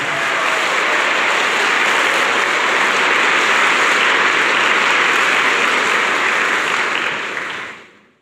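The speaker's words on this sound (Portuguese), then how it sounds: "Aplauda a tua igreja, aplauda a tua fé." Church congregation applauding during a Lenten sermon, a dense, steady wash of clapping that holds loud throughout before fading away at the very end.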